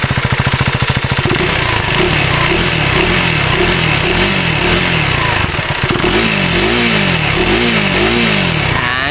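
A KTM 390 Adventure S single-cylinder motorcycle engine, loud and close, revved repeatedly in rising and falling blips from idle, each throttle burst swelling and dropping back in a rough, harsh rhythm.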